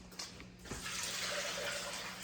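Liquid pork fat is poured into a container, a steady close splashing, trickling rush that starts after a brief knock and runs on at even level to the end.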